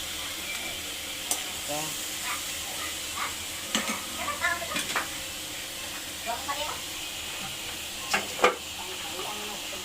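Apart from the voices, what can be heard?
chicken sautéing in a pan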